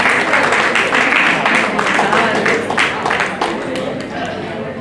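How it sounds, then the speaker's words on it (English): An audience at an award ceremony gives an honouree a big round of applause, loud sustained clapping from many hands in a hall, tapering slightly toward the end with some voices mixed in. "A huge round of applause, ladies and gentlemen"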